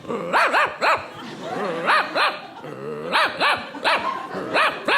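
A man imitates a dog barking while sitting at an airport gate, giving a rapid series of loud, close, throaty yaps and woofs in short bursts with brief pauses between them.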